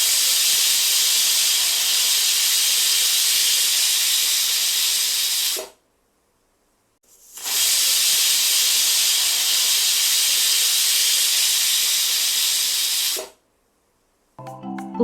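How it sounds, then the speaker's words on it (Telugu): A pressure cooker of brinjal rice vents steam in two long, loud, forceful hisses, each about six seconds, split by a short silence, with a little clatter at the very end. "తర్వాత కుక్కర్ మూత పెట్టుకుని 2 విజిల్ రానివ్వండి."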